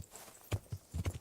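Horse hooves clip-clop in Kingdom Come: Deliverance, four or five distinct, fairly close hoof strikes on hard ground, unevenly spaced over a soft background.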